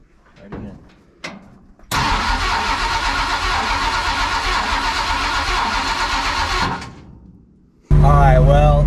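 A big-block Ford engine in a truck cranks briefly, catches and fires up, running loud and rough for about five seconds before shutting off, with a voice at the end.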